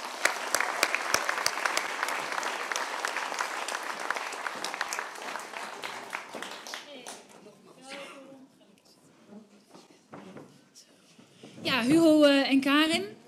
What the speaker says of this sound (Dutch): Dames en heren, maak uw applaus voor Hugo Borst en Karin Gamers.